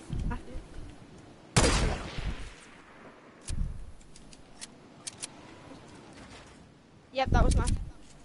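Gunfire from the video game Fortnite, heard as a few separate bursts of shots of moderate loudness with pauses between them, and a player's voice talking over the game.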